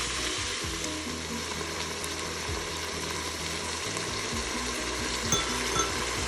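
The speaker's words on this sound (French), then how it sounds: "On laisse notre farce mijoter" Chicken fajita filling with corn simmering in a pan, a steady close frying sizzle with faint scraping and ticking from stirring, alone and moderately loud.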